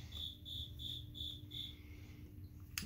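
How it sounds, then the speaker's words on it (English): A single indoor cricket chirps in five quick, evenly spaced bursts, close and clear over a quiet room, then falls silent. "Please don't mind the cricket."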